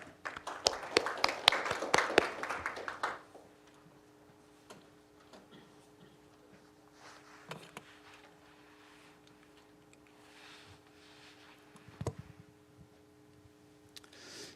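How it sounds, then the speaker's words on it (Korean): Audience applause at a policy forum on distributed energy in Gwangju, a burst of clapping lasting about three seconds that then fades into the quiet room, with a few faint isolated taps afterward. "큰 박수 부탁드리겠습니다."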